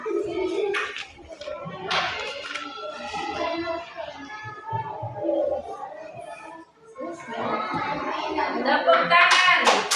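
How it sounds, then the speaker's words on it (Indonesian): A classroom of children claps their hands in bursts of brisk, overlapping clapping that pause briefly before resuming, with a teacher's voice and children's chatter heard between the rounds. "Tepuk tangan."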